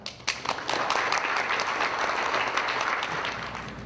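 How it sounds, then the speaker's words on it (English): At a charity poker night, an audience breaks into warm applause that starts with a few scattered claps, swells quickly into a full, dense wash of clapping and then holds steady. "we just want to give a round of applause for Sumner Redstone"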